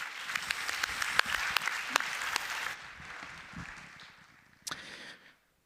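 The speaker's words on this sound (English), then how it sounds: "Would you give them a big round of applause?" Applause for a panel at an energy summit session, brisk crowd clapping that thins and fades after a few seconds, with a few stray claps near the end.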